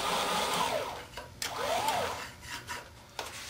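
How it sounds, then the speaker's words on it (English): Motorized router lift on a router table tool stand whirring as it moves the bit, rising and falling motor whine in short runs with brief pauses, close and fairly loud, no speech. "that'll be the point at which the motorized router lift will stop"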